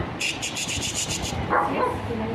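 A dog lets out a quick string of sharp, high yips close by, about half a dozen in a row, followed by a person's voice talking.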